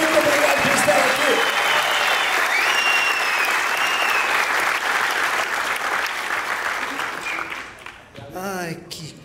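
A studio audience applauding a guest on a comedy talk show, a long loud burst of dense clapping that fades near the end as a voice begins speaking.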